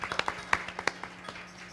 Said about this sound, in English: Give those people a round of applause, please